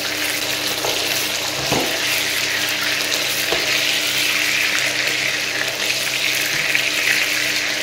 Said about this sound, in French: et je laisse évidemment les autres dorer. Voilà, dorer ma viande.